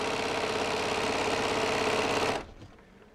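A sewing machine stitches a straight line on quilt fabric, giving a fast, even mechanical whirr with rapid ticking for about two and a half seconds before it stops abruptly, close and without talk.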